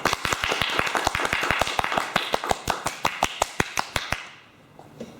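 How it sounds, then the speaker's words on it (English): A small audience claps for Rachel, who is running for president, in a quick run of separate close claps that stops after about four seconds, leaving near silence. "can we have a huge round of applause to Rachel?"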